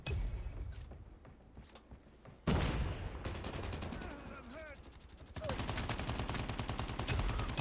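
Rapid automatic gunfire in COD Mobile, dense strings of loud shots with short gaps, the firing growing heavier and more continuous toward the end.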